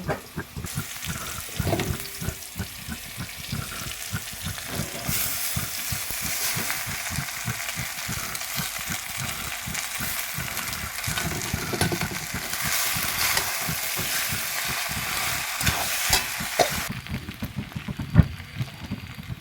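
Boiled rice noodles and pasta tossed into a hot frying pan, a dense continuous sizzle and crackle with wet, hissing texture that swells and eases over time, close with no talking.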